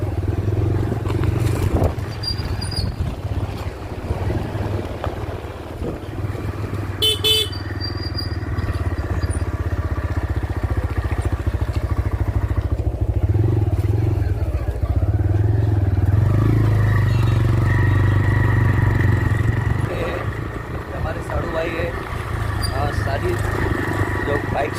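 A motorbike ridden along a rural road between rice fields, its steady low engine drone running continuously throughout, close and fairly loud, with a little clatter and insect chirping in the background.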